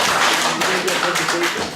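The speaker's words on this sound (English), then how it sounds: "So everyone give a round of applause to Anis and Salwa." Brief round of clapping from an audience at an iftar gathering, a burst of many hands that rises and then tapers off, with some talk mixed in.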